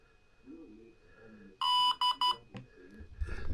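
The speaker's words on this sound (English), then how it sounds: "Aircraft beeped." A DJI Neo 2 drone pairing with its goggles gives three loud, clear electronic beeps, one long and two short, close by in a quiet room after low background murmur.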